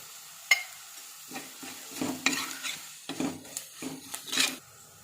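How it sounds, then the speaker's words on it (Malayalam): Ingredients for a coconut-milk fish curry are sautéed in a pan, with a soft sizzle under several scraping stirs of a spoon against the pan across a few seconds. "ഇത് രണ്ടും കൂടി നന്നായിട്ടൊന്ന് വഴറ്റിയെടുക്കാം"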